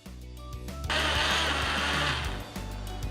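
Kitchen blender whirring as it purées onion and cane vinegar with a splash of fish sauce, motor starting after a brief clatter and running steadily loud for about two seconds before easing off.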